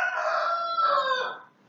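A chicken crows once, a loud drawn-out cock-a-doodle-doo heard close and alone, fading at the end.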